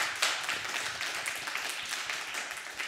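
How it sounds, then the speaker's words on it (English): An audience at an NYU Game Center lecture gives a round of applause for the guests, a dense, even patter of many hands clapping at once for a few seconds. "Round of applause for our guests."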